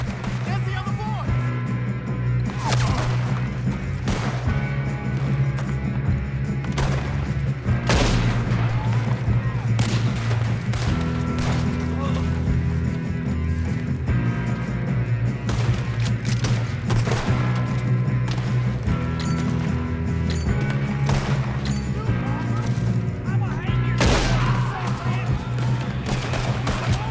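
Repeated gunfire and heavy booming shots in a Red Dead Redemption 2 shootout, loud and sustained over a steady music bed, with sharp bursts clustering throughout and voices occasionally speaking.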